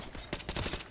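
Gunfire in Call of Duty: Modern Warfare 2 Remastered, a burst of loud, close shots rattling in quick succession over a dense game soundscape.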